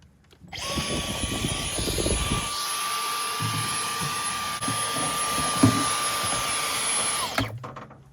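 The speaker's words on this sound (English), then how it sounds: "So I'm gonna go get a vacuum and just kind of clean out this whole battery tray." A loud vacuum cleaner drones steadily for about seven seconds, clearing out the battery tray of a Class C RV, starting and stopping abruptly with no talk.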